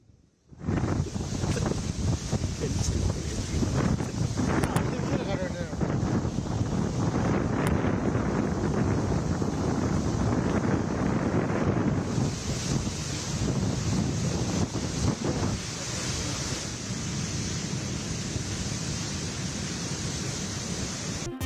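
Rough sea at Puducherry's Gandhi Beach during a cyclone, with steady heavy wind buffeting the microphone over continuous crashing surf, loud and unbroken throughout.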